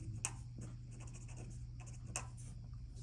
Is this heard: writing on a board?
yes